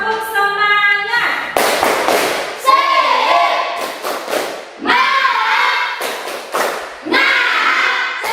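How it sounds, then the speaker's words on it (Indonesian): Children in a classroom doing a rhythmic spirit clap, bursts of loud group clapping and thumps in patterned rhythm, mixed with voices and chanting, close and energetic. "Tepuk semangat."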